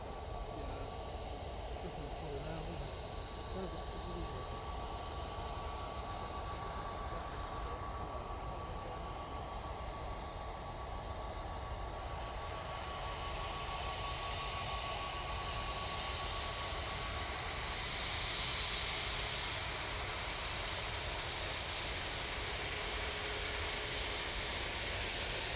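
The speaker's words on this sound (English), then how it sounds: "you can see the anti-icing across the wings on this 321 Neo" An Airbus A321neo airliner departs Manchester Airport on a cold morning with wing anti-icing on, its engines a broad, continuous roar that holds steady at a distance throughout.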